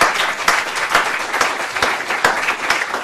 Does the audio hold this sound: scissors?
no